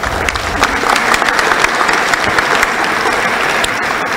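Sustained loud applause from an audience at an electoral reform forum, dense steady clapping filling the whole stretch without pause.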